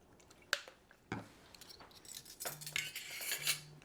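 Vanilla extract being stirred into peach cobbler batter: quiet scraping and clinking of a utensil against a bowl, with a few sharp taps and soft wet stirring sounds, close and unaccompanied by speech.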